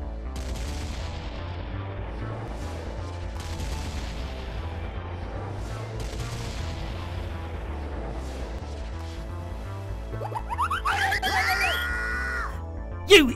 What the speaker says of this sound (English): Everyone ran around the ship, firing, trying to shoot Peter Pan.